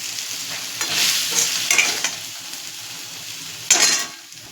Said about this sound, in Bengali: ডালটার মধ্যে সবজিটা তুলে দেবো।